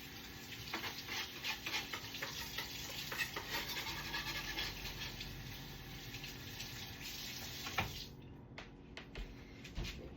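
Tap water runs steadily while a cutting board and knife are rinsed under it at a kitchen sink, a continuous splashing broken by small clatters, stopping abruptly near the end before a few faint knocks.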